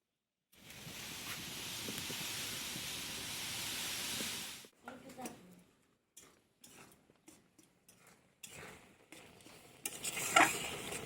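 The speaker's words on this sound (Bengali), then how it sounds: "আমি এই নারকেল ভালো করে নাড়ুর মতো করে কষায় নেব" Grated coconut stirred and slowly cooked in a pan for Bengali moong puli filling, a steady close sizzle and scraping for several seconds, then broken intermittent stirring scrapes and clinks with brief pauses.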